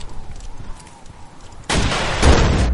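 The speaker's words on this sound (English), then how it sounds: "So this is what would happen if you shoot a tank with the RPG in the front." An RPG rocket slams into the front of a tank in Battlefield Bad Company 2, a sudden loud explosive boom with a heavy rumbling tail and a second punchy impact, after a stretch of quieter ambient noise.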